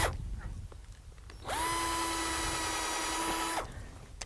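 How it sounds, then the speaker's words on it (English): A power drill boring a hole in walnut grafting wood, one steady whine of about two seconds that starts and stops abruptly, heard close up over quiet outdoor background. "So we're going to also drill a hole in it here to aid in the,"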